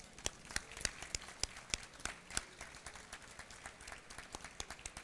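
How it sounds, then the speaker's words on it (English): Applause from a modest audience greets awardees at a Filipino American History Month celebration, with distinct individual claps ringing out in an uneven, moderately loud patter. "Let's give all our awardees a round of applause."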